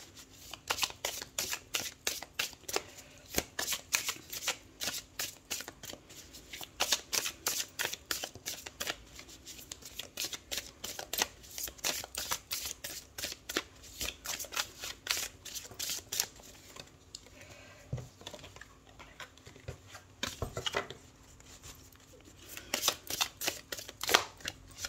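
Tarot cards being shuffled by hand, a long run of quick, crisp riffling flicks in bursts and pauses, close and fairly quiet, with a faint voice now and then.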